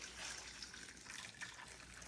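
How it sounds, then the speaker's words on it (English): Hot water from a kettle pouring onto salted cod, a soft steady trickling splash, faint and close, running evenly without talk. "and I'm going to put the hot water on it"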